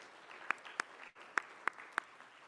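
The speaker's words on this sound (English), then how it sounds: "Give yourself a little bit of a round of applause for being here." A small conference audience offers a light, sparse round of applause, a handful of distinct claps standing out over a faint, quiet patter.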